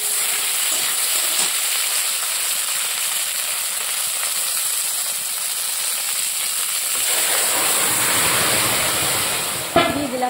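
Greens hit a pan holding a fried fish head with onion and black cumin tempering, and a constant close sizzle and hiss swell louder and rougher as they go in, with a few clinks at the end.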